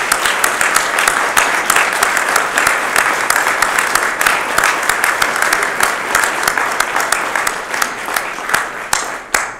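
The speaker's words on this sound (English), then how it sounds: "join me in a round of applause for our families and friends" Round of applause from families and friends at a police department badge pinning ceremony, many hands clapping in a dense crackling burst that thins and fades toward the end, with no talking.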